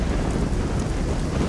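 A thunderstorm rages in the video game Risen 2, dense steady rain and a deep rumbling roar filling the scene with constant broadband noise and no talk.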